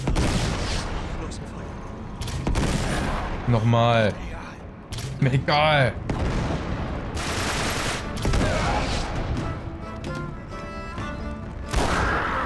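Bursts of gunfire in Uncharted: Drake's Deception, rapid volleys and single shots with booming impacts, while a player talks over the action.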